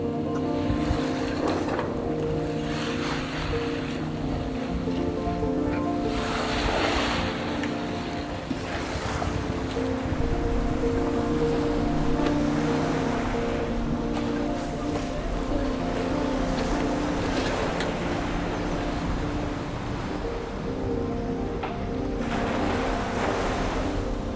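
A boat engine drones steadily beneath the wash of waves and wind, with a low continuous hum throughout and occasional splashes.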